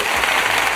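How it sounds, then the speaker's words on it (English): Brief, dense clapping from a crowd, even and continuous for under a second with no speech on top. "Let me give you two more applause."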